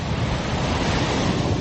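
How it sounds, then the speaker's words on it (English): Gale-force wind roaring over crashing ocean waves in a radio drama storm scene, a dense, continuous and loud wall of surf and gusting wind with no voices. "gale-force winds, and crashing waves"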